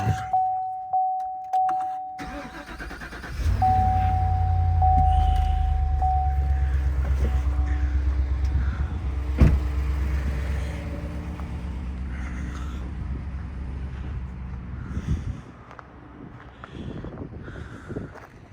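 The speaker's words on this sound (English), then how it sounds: "we're going to get this vehicle fired up" A vehicle engine cranks and catches, then settles into a steady low idle as it warms up in chilly winter weather, with a chirping electronic tone early on and some wind noise.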